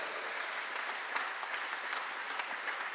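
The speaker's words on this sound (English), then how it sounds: "Round of applause, ladies and gentlemen, for England." Crowd applauding the England team at a wheelchair rugby league Ashes test, a continuous, even wash of clapping heard from a distance at moderate loudness.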